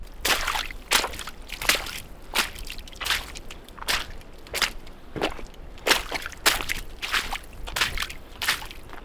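Footsteps slosh through mud on a wet, snowy hiking trail, each step a sharp squelch in a steady walking rhythm, close and fairly loud, with no talking.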